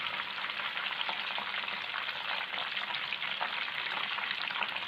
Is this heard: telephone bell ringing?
no